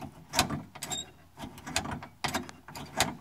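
Chevy K5 door latch being worked, giving irregular bursts of squeaking and grinding metal, sharp scraping clicks in quick clusters, close and fairly loud.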